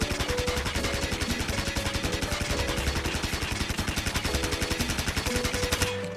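Rapid automatic fire from a PP19 Bizon submachine gun in Call of Duty: Mobile, tested on a training range: a loud, steady stream of close shots in an even fast rhythm, running unbroken for about six seconds, then stopping abruptly.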